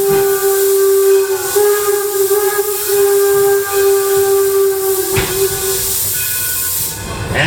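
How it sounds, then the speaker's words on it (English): Heritage D&LN No. 7 steam locomotive on its final 2024 run sounds a loud, sustained whistle blast over continuous steam hiss, with a brief break near the end and hissing carrying through. "The two toots of the whistle means we're back on our way again"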